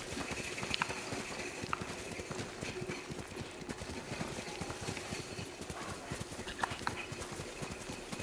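Video game horse hooves clip-clopping in a quick steady rhythm, soft and continuous, with a few faint higher clinks over the top.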